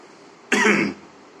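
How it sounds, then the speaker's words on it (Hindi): A single harsh cough, brief and close, breaks a quiet room, lasting under half a second. "अक्सर जब मौसम बिगड़ता है तभी खांसी आती है।"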